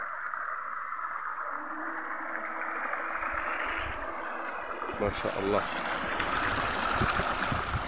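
Cold spring water flowing at Hammam Guergour, Algeria, a continuous close rushing hiss that swells slightly toward the end while someone speaks over it.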